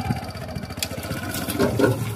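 A motorcycle converted into a homemade road roller with a steel drum runs at a steady idle-like putter, its engine note continuous and fairly close, with a rattling rhythm and no talk.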